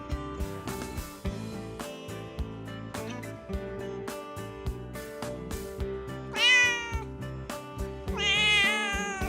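A cat meows in a scene from a domestic feature film: two drawn-out, rising-and-falling cries near the end, heard over a busy tonal background.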